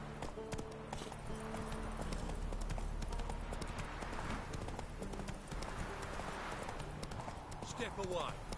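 Roach, the horse from The Witcher video game, gallops with a steady, fast clip-clop of hooves that runs through the whole stretch, close and loud, under a constant layer of game sound, with voices present.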